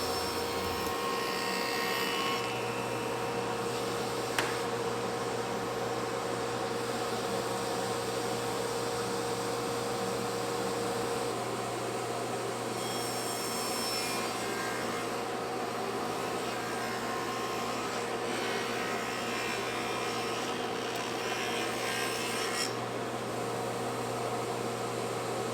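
A table saw fitted with a dado blade cuts a groove into a wood cabinet door panel, giving a steady, loud broadband whine and roar that holds for the whole stretch, with a few brief changes in pitch.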